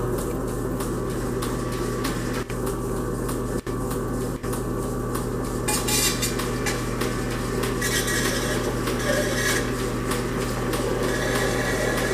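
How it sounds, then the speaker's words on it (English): Funnels being spun by hand: a continuous, dense rumbling hum with steady whirring and faint scraping, broken by brighter rasping bursts partway through, running loud and unbroken throughout. "Now this is how I spin my funnels."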